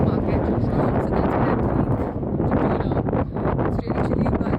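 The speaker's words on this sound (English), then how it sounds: "Really windy as well." Strong wind gusts buffet the microphone outdoors in Edinburgh on a chilly winter evening, a constant loud low rumble running through the whole stretch with brief dips, partly masking speech.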